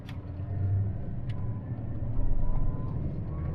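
A Great Wall Wingle campervan's engine revs in first gear, a low, fairly faint mid-pitched drone heard from inside the vehicle, rising slightly toward the end.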